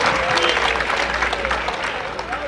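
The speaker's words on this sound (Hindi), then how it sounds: "अच्छा लगे तो तालियों से बता दें।" Dense audience applause at a kavi sammelan poetry recital: a large crowd claps loudly and continuously throughout, with a faint murmur of voices mixed in.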